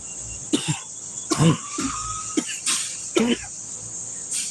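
A handful of separate dry coughs, close and fairly loud, spaced irregularly over a steady high insect-like hiss.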